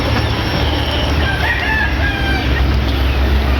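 A gray stag rooster, an SBR cross, crows out in a backyard, with a steady low rumble continuing underneath.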